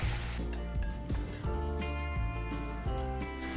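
Chopped onions frying with salt in a pan, a loud steady sizzle under a continuous bed of background music with repeating tones, no speech.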